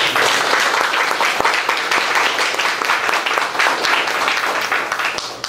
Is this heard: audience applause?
yes